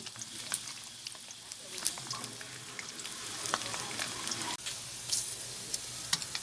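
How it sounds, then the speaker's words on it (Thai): Crispy pork belly frying in oil in a home kitchen, a steady close sizzle with scattered sharp pops and crackles and occasional stirring clinks, with no voices over it. "ทอดหมูกรอบ"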